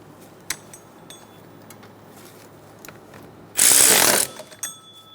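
A ratchet snugs down bolts on a 2003-2007 Honda Accord engine, one close, loud run of rapid clicking lasting under a second, with a few light metallic taps before and after.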